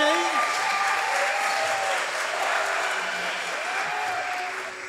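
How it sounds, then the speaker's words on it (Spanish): Live podcast show audience applauding after a prize round, a continuous layer of clapping running under voices that talk over it throughout. "Muy bien, un aplauso"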